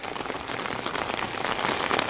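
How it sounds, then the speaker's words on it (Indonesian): Heavy rain pours steadily in a remote village set deep in a teak forest, a dense, continuous hiss of drops drumming on surfaces, loud and close with no voices. "Nah, ini terasa sadu di saat hujan deras seperti ini, teman-teman ya."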